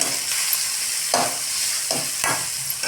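Tomatoes fry in hot oil for Paneer Hyderabadi, a steady close sizzle broken by three or four scraping stirs of a spoon across the pan, no voices.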